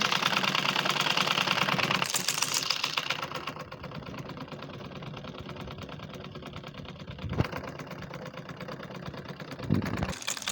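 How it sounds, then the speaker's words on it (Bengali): A sewing machine runs steadily while stitching the side seam of a kameez, a continuous close mechanical whir with a dense rhythmic clatter that eases slightly after the first few seconds, punctuated by a couple of brief knocks. "দেখেন একইভাবে এই পাশে ফাড়াটা সেলাই করে নেব।"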